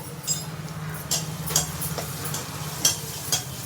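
A spoon stirs turmeric and chili powder in a hot pan for a chikudukai (broad bean) curry, soft scraping strokes with a few sharper clinks over a faint low sizzle, close and fairly quiet.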